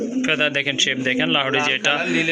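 Pigeons at a bird market coo in short, throaty phrases close by, mixed in with people talking.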